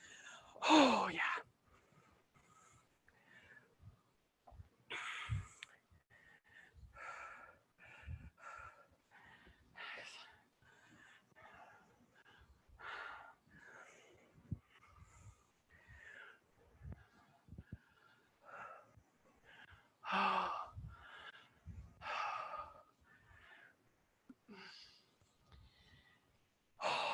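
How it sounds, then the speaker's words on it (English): Heavy, effortful breathing during a leg workout: loud gasps and sighs come in bursts between stretches of talking, close to the microphone. "Keep breathing."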